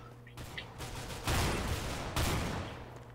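Rapid bursts of automatic gunfire from a weapon in the shooter game CS:GO, two dense volleys following a few lighter shots, fairly quiet and close with no talk over them.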